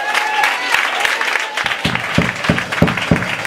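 A congregation at a church service claps to acclaim the Lord, with steady rhythmic hand claps building into evenly spaced beats, while voices carry faintly underneath.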